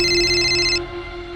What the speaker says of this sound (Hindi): सॉरी सर, भैया का फोन है, उठाना पड़ेगा।